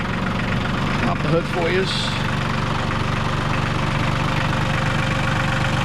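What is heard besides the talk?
New Holland TC30 tractor 3-cylinder diesel engine idling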